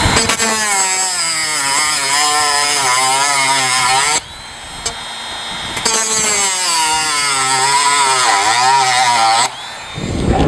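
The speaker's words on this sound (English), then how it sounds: "I'm going to use a Dremel tool with a cutting wheel on it here, and I'm going to trim off all these edges of the points of the screws" A Dremel rotary tool with a cutting wheel trims screw points on an oyster nursery silo, a loud, close, whining grind in two long passes with a short break in between.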